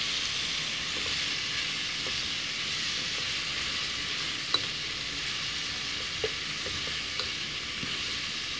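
Spices frying in a masala of coriander, red chilli, turmeric and salt, stirred in a pan, give a steady broadband sizzle with a few faint scrapes of the spoon and no talk.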